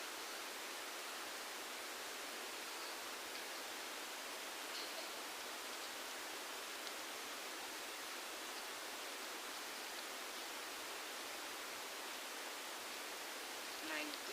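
Water poured onto soil over newly sown snake gourd and tomato seeds, a steady, even hiss of spray that runs unbroken throughout at a moderate level with no voices.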